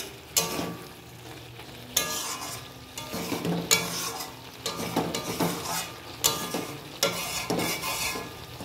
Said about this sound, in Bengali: এটাকে ভালো করে কষতে হবে এবং তেলটা যাতে ছাড়বে সেই সময় আমি জল দেব